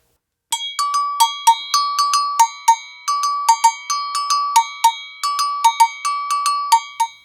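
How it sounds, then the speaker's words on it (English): Agogo bells struck in a steady, quick pattern alternating two pitches, bright metallic clanks ringing clearly with short decays and no voices. "the answer is... Agogo bells"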